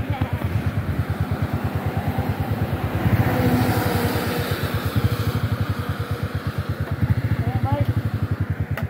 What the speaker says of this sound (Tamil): பையன் வேறு வண்டி வந்து முறுக்கிட்டே இருந்தான்